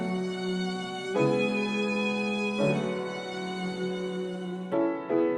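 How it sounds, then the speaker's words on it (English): Ace Studio violin plugin voiced in two octaves with reverb, playing smooth, sustained bowed notes that change pitch a few times, full and resonant with a soft reverberant tail and no talking. "I'm not gonna lie, that violin sounds good."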